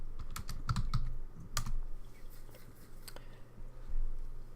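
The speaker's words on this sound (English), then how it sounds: "I can type." A burst of clicky keystrokes on a computer keyboard, close and crisp, followed by a few scattered taps over a low steady hum.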